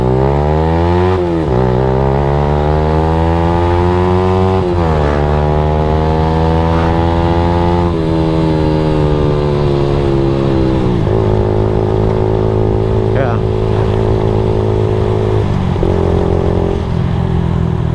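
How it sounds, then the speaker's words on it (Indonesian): A Honda Nova Sonic RS 125 two-stroke motorcycle, a Thai-built model, pulls away with loud, close engine revs rising through several gears, each climb dropping sharply at a shift, buzzing continuously for the whole stretch. "gua akan coba narik motor ini ya"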